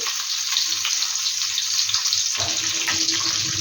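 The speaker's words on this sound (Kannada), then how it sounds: "ಈರುಳ್ಳಿ ಚೆನ್ನಾಗಿ ಎಣ್ಣೆಯಲ್ಲಿ ಫ್ರೈ ಆಗಬೇಕು," Chopped onions sizzle in hot oil for a masala shavige bath, giving a bright, steady frying hiss close up and alone, with a soft clatter partway through.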